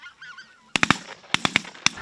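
Geese honking during a California speckle-belly goose hunt, a burst of several sharp, loud honks close by in quick uneven clusters after a brief quiet start with faint distant calls.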